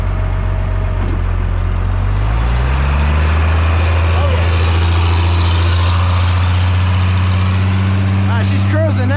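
Pettibone crane engine running loud and steady, shifting down to a lower gear with the low rumble dropping in pitch around the shift, continuous and close.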